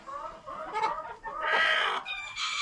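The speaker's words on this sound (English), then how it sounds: "That chicken right there is broody." A broody hen on a small Tennessee homestead clucks and grumbles close by, a run of agitated, raspy calls rising into a louder squawking burst near the end, with no other sound intruding.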